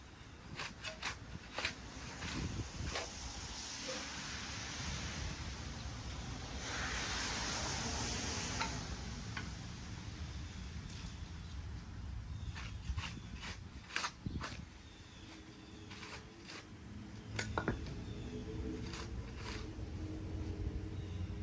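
A shovel scrapes and drags across soil to level ground for outdoor stairs, a continuous close gritty rasping with repeated sharp scrapes and knocks over roughly twenty seconds.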